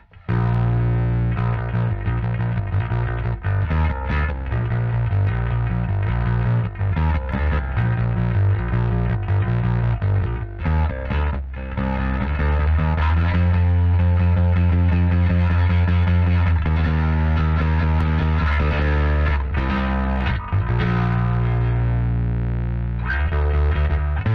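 A bass guitar plays a riff through a Groove Lab FX Black Haze pedal's gritty, mid-heavy distortion, loud and continuous with brief pauses between phrases.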